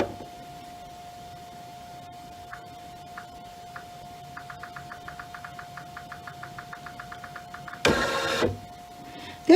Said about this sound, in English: So let me just move my hoop here.